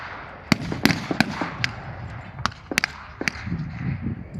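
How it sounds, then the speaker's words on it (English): Blank-fired gunshots at a WW2 battle re-enactment in an open field, with about a dozen sharp cracks at irregular intervals, some clustered, over a steady outdoor rumble at moderate distance. "The Germans have waited until the last possible moment and then opened fire with deadly precision."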